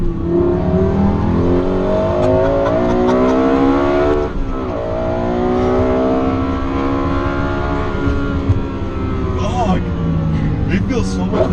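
A Lexus LFA's engine roars steadily at high revs, pitch climbing then dropping briefly before rising again, loud and close as if from the passenger seat.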